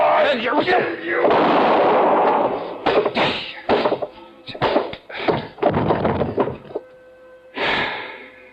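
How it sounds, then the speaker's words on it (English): Gunshot effect in an old-time radio detective drama featuring Johnny Dollar, following a struggle in a cabin; clattering thumps and dramatic voices lead up to a sharp, loud burst near the end. "I knew the sound of the gunshot would bring the others back to the cabin."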